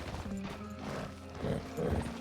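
A few seconds of horse hooves clopping in Red Dead Redemption 2, a steady rhythmic beat with a faint whinny, close and fairly full over game ambience.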